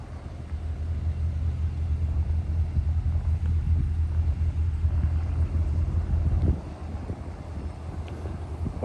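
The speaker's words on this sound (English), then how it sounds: "Oh, it got windy out." Wind blowing outdoors beside a railway line, a low, steady buffeting rumble against the microphone that gusts for several seconds, eases briefly, then picks up again, with no voices heard.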